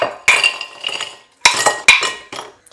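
Ice cubes dropped and scooped into a bowl, sharp clinks and clatters in several distinct bursts with brief pauses between, close and fairly loud.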